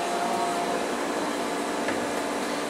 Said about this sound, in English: I don't think they can hear you because that air conditioner.